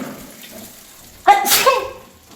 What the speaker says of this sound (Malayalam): അതാ തുമ്മണ